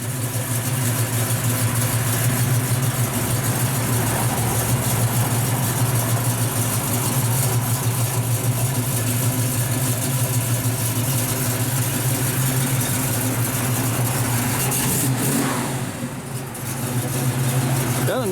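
A 1965 Chevrolet Chevelle Malibu SS with a 350 turbo transmission, ceramic-coated headers and 2.5-inch dual Flowmaster exhausts idles steadily with a deep, even rumble, briefly dipping near the end.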